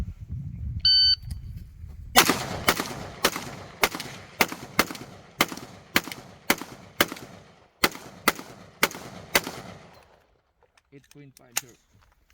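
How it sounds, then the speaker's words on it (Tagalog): A rapid series of about fifteen sharp semi-automatic gunshots, one bullet per trigger pull, fired one after another at a steady pace, loud and close, ending in silence with a faint beep. "Kapag semi, bawat kalabit mo ay isang bala lang lalabas."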